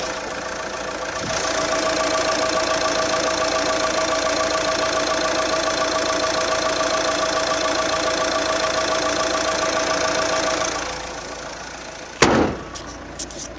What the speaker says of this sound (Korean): 바로 엔진음 한번 들려드릴게요.